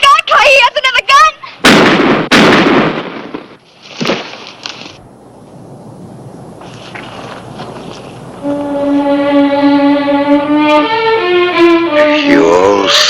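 Gunshots in a western TV series: several sharp, loud shots in quick succession near the start, followed by quieter passages and a swelling orchestral score, with brief talk.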